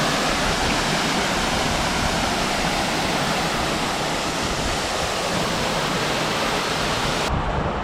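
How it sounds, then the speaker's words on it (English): Hole in the Wall waterfall in Oregon's Columbia River Gorge, a loud, close, unbroken roar of falling water that fills the whole clip with no pauses or voices. "I just finished photographing Hole in the Wall waterfall"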